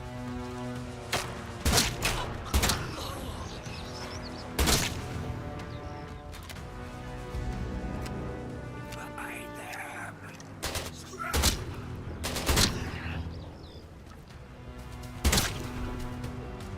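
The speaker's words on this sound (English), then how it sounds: "they're trying to shoot me through the window, but I think they can't" Robots in the video game Atomfall fire guns through a window, sharp intermittent shots and thuds scattered irregularly amid a humming game background while someone talks over it.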